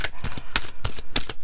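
Playing cards being shuffled by hand, a quick series of about eight crisp riffling flutters and slaps close to the listener in under two seconds.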